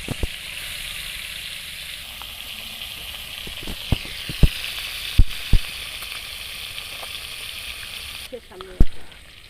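Snakehead fish curry cooking in a pan at night, a soft continuous sizzle with scattered clicks and knocks of utensils, while a person talks over it.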